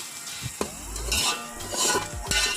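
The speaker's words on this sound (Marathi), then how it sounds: "कांदा टोमॅटो लसूण कढीपत्ता परतून घ्यायचा आहे" Onion, tomato, garlic and curry leaves sautéing in a pan, with a soft sizzle and a few knocks and scrapes of a spoon against metal across a short stretch.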